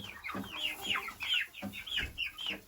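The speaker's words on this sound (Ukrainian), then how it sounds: "А півник темненький, сосунчик." Close chicks and a dark young rooster clucking in quick, repeated bursts of chirpy calls, fairly loud with no talking.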